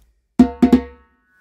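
A timbal played up close gives three ringing, resonant strokes in quick succession, a flam leading into two open tones, each with a bright metallic ring that fades within a second.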